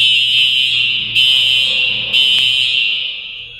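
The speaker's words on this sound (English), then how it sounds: "the fire alarm for my building went off" A residential building's fire alarm blares loud and close, a piercing high tone broken into a few long pulses with brief gaps between them.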